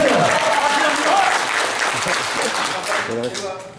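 Applause in a press room at a city hall press conference for a parliamentary candidate: a full burst of clapping that thins out, with voices rising over it near the end.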